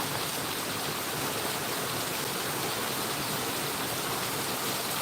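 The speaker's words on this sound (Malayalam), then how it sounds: "പുറത്തിറങ്ങാൻ പറ്റാത്ത മഴ" Heavy rain too dense to go out in, a steady, even broadband wash of falling water that holds level from start to finish with no voices.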